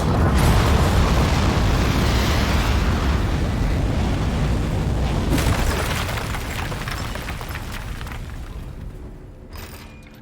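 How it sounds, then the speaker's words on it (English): Rocket liftoff in the video game Aperture Desk Job, a loud deep rumbling roar that swells at once, holds heavily, then slowly fades toward the end with faint rattling mechanical sounds. "We have liftoff."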